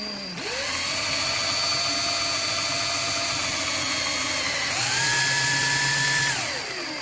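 A power drill bores into cast metal through a pilot hole, its motor whining steadily for several seconds, then pitching up sharply near the end before winding down, loud and close with no talking.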